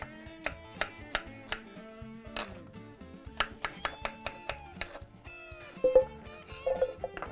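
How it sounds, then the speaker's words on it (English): A knife cuts the skin off the outside of a pineapple, giving a quick series of crisp, close chops on a board, some clustered and irregular, over faint tonal background; no speech. "then you cut the outside of the pineapple"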